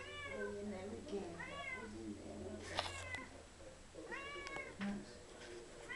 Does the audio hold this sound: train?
no